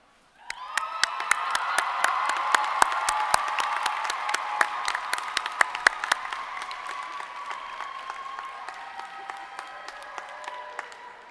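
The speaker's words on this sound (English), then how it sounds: "If all the Decker graduates will stand up and hoot and holler and clap for your family," Nursing school graduates at a commencement ceremony break into clapping after a brief silence, with sharp individual claps standing out over a sustained wash of applause and light cheering that gradually tapers.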